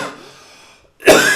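After a trailing breath and a brief silence, a single loud, close cough bursts out.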